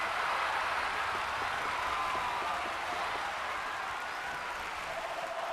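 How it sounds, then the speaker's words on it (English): Crowd applause in the Dragon Quest Monsters game at a tournament announcement, a steady sustained wash of clapping and cheering that holds loud and even throughout with no talk over it. "Give a round of applause to Monster Scout Darius."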